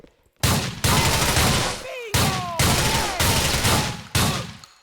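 Repeated bursts of gunfire from a shooter in Grand Theft Auto IV, several loud volleys in quick succession separated by short gaps, with faint whistling tones between some shots.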